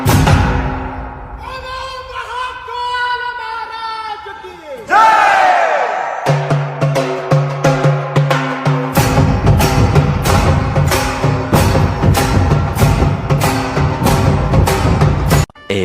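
A dense crowd inside a temple on Maha Shivaratri, with loud overlapping voices and shouts, then rapid regular bell strikes and drumming ringing out continuously over the clamour.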